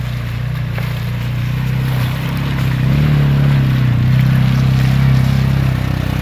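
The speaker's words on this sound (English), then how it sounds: "here's the Challenger 750. Cub Cadet playing a little bit of mud." A Cub Cadet Challenger 750 utility vehicle drives through mud puddles, its engine a steady, loud, close drone that swells slightly partway through, with no talking.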